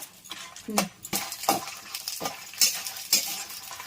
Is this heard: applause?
no